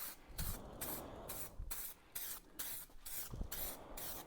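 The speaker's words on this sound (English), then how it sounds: "Yeah, just start spraying." Airbrush or spray can misting color onto a 413 model build in short repeated bursts, each a steady hiss separated by brief pauses, close and loud with no talking.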